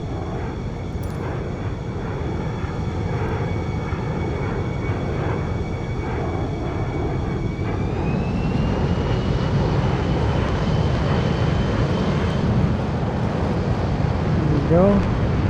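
F-15 jet engines roar steadily and loud close by during a landing approach with wheels and flaps down, a rising whine entering partway through, while a voice talks over the engine noise.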